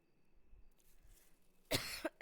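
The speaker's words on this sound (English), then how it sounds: "I didn't mean to cough right into the mic" Two or three sharp coughs close against a microphone, loud and abrupt, following a stretch of near silence with faint rustling and small handling noises.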